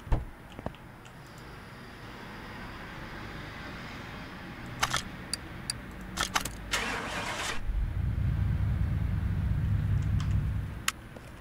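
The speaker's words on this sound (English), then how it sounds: "I want to start this thing and see what it sounds like." Car engine starting in Car Mechanic Simulator 2018 on a Ford/Pagani car: a few mechanical clicks and a cranking burst, then the engine catches into a deep, steady rumble that cuts off near the end.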